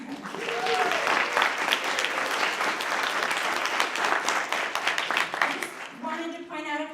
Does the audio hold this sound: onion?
no